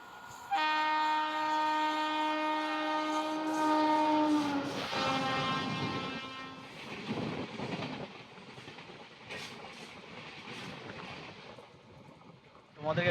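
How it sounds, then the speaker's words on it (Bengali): An express train on the single-line Konkan Railway blares a long harmonic horn for about four seconds, then roars through without stopping, the heavy rumble and rattle of wagons fading steadily toward the end. "তোমাদেরকে ক্রসিং দেখালাম বান্ধবী এক্সপ্রেসের, থ্রু পাস করে বেরিয়ে চলে গেল।"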